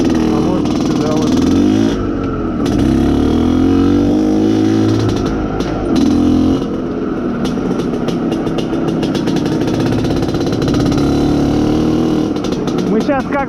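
Izh Planeta Sport motorcycle being ridden through a forest during engine break-in, its loud engine droning close by and rising and falling in pitch as the throttle is opened and eased, with a rider talking over it.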